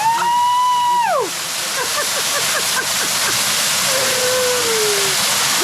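Waterfall in the Colombian mountains, a steady broadband rush of falling water that stays loud and close throughout, with a whooping voice briefly over it at the start.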